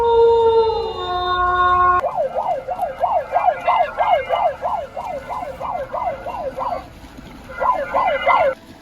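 A loudspeaker on farmland plays an electronic siren to scare off animals: a brief steady tone, then a fast warbling yelp cycling repeatedly, pausing, and returning, loud and fairly close.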